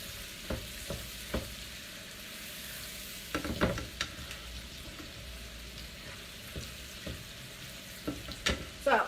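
Chopped vegetables, including celery, sauté for cornbread stuffing in a close, steady sizzle, with intermittent spoon clicks and stirring scrapes that grow busier toward the end.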